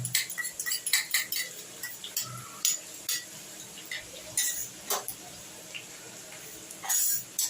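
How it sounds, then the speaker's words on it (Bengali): Ginger and garlic are stirred in a pan for Chinese chilli chicken, a series of sharp metallic clinks and scrapes of a spoon against the pan, irregular and close, with quiet gaps between. "আদা রসুনটা একটু নাড়াচাড়া করে"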